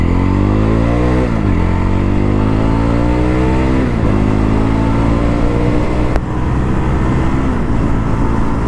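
A Yezdi Roadster motorcycle engine revs loudly and steadily up close, its pitch climbing in repeated sweeps as it pulls through the gears, with a brief dip near the end and no voices.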